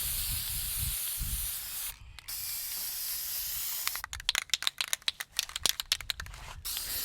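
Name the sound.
spray paint can spraying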